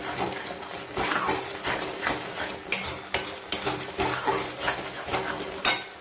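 Spiced fried chicken, marinated in chili powder, turmeric and salt, gets stirred in a pan with added turmeric and ground coriander: a steady run of close metal spatula scrapes and knocks, with a soft sizzle underneath.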